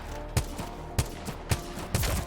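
Apex Legends gunfire: four evenly spaced single shots, each a loud crack over a steady background hum.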